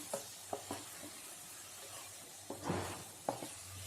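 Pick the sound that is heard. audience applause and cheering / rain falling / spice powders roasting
spice powders roasting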